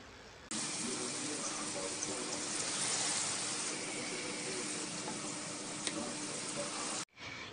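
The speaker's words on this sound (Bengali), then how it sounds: "লবণ দিয়ে নেড়ে চেড়ে মিশিয়ে নিচ্ছি।" Fried vegetables stirred with salt in a pan for a Bengali rohu fish curry: a steady broad hiss of sizzling that starts abruptly and cuts off near the end, with no voices.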